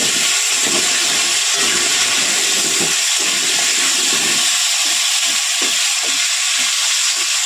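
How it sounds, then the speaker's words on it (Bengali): Potato pieces frying in hot oil in a home kitchen while a boal fish curry is being prepared, a steady loud hiss of bubbling oil with a few soft clinks, no talk. "এই তেলেই আমরা আলুটা ভেজে নেব।"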